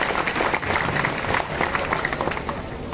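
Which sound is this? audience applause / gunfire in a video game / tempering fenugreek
audience applause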